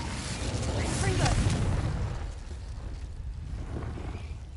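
A Confringo fire spell from Hogwarts Legacy erupts in a deep, rumbling explosion that swells loudly for about two seconds before fading into a low, lingering roar.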